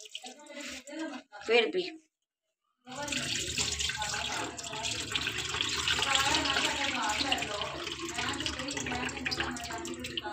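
Tap water runs steadily as potatoes are rinsed in a bowl for a final wash, a continuous broad splashing flow after brief speech and a short pause.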